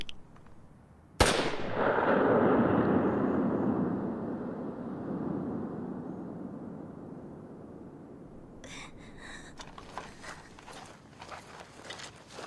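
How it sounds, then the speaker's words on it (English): A single gunshot from the anime film Jin-Roh: one sudden, loud crack followed by a long, rumbling echo that slowly fades over several seconds, then quieter scattered noise. "hugging Fuse until you hear the gunshot"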